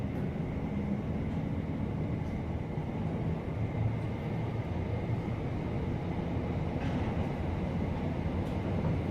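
A SouthWest Trains passenger train running through Ash toward the level crossing, heard from inside as a steady, loud rumble and rolling drone throughout, with faint rail clicks and no talk.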